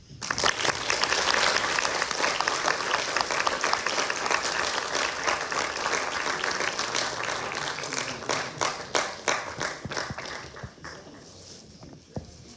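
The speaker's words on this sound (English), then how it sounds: "can we please give a round of applause to our great speakers" A university interfaith event audience applauds its speakers, with sustained, full clapping from a sizable crowd that stays strong for most of its length before gradually tapering into scattered claps.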